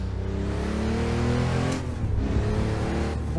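Porsche 911 993 Turbo with a twin-turbocharged engine in the Assetto Corsa racing game, droning loud and steady close up, its pitch sliding and shifting through throttle changes without a break.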